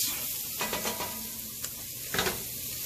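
Ingredients for a stew sizzling in hot oil in a pan, a steady close hiss broken by several short scraping bursts of stirring, with no voices.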